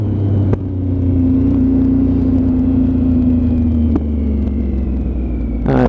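A Triumph Speed Triple 955 motorcycle rolls along at low speed in first gear, a steady close engine rumble with a smooth whirring tone and a couple of brief knocks.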